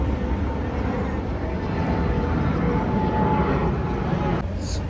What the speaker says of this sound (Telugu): ఫ్లైట్ కూడా వెళ్తుంది.